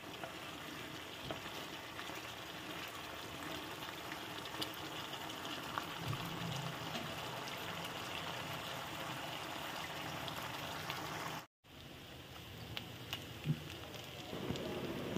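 Mutton sizzles and crackles steadily in hot oil as its water cooks off, a dense, even frying hiss that runs throughout with one brief dropout near the end.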